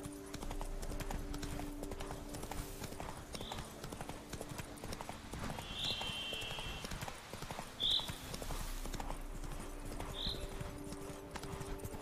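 Horse hooves clip-clop in a steady walking rhythm in The Witcher 3: Blood and Wine, with occasional faint chiming accents and a low game ambience underneath.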